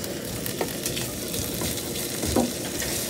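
Chopped onion sizzles in a little oil in a pan, a continuous crackling fry with a few stirring scrapes, no voices.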